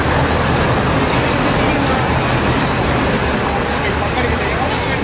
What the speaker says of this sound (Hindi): ये अभी ट्रेन आ रही है